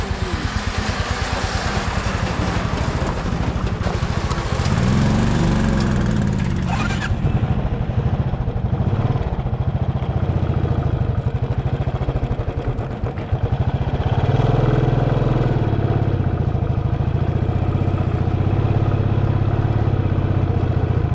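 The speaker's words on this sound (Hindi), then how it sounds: "आगे वाले व्यक्ति बाइक को ऊपर चढ़ा रहे हैं, लेकिन बाइक वापस नीचे आ गई।" A motorbike engine labours up a slope on a mountain road between Leh and Pangong Lake, a loud continuous rumble that rises and dips as the throttle changes, with clattering and a surge of revving near the end.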